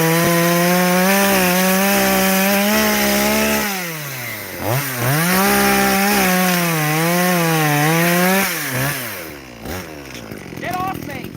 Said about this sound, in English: All I'm doing is sawing through your flesh.